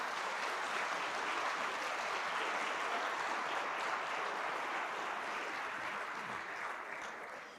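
Church congregation applauds the Lord during a sermon, a dense, sustained wash of clapping from many hands that stays even throughout and tapers slightly at the end.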